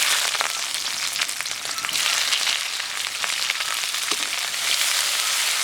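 Cumin seeds and bay leaf fry in hot mustard oil in a home kitchen for a Bengali dry fish dish, giving a loud, continuous crackling sizzle with scattered pops throughout and no talking.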